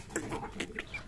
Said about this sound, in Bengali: দেখুন হাঁস মুরগি কবুতর